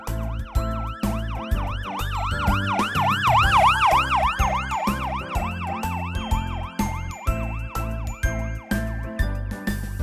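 A small ambulance's siren wails, rising and falling rapidly, mixed with a steady rhythmic electronic beat; loud and continuous, no talking.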